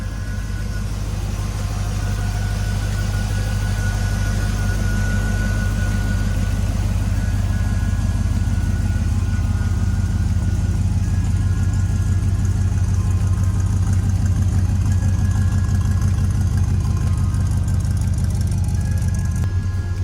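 A 1970 Chevrolet C30 truck with Cherry Bomb exhaust idles steadily and loudly nearby, a deep, even rumble that keeps a constant low throb throughout without revving.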